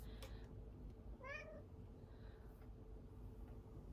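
A pet cat gives a single clear meow with a rising, bending tone, close by and alone over a steady low room hum.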